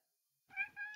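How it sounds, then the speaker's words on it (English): A cat meows once in a short, clear call with a rising, tonal quality, heard close and alone after silence in a quiet room. "Sorry if you guys hear a cat meowing."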